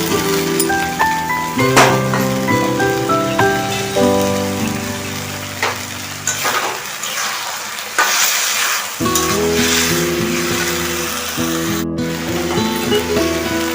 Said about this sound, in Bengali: এবার মাছের মাথাটাকে দিয়ে